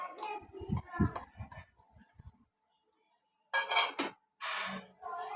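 A spoon clinks and scrapes against a pot while crumbled chicken is mixed into masala for erachi puttu, in short irregular bursts broken by a silent pause, fairly close.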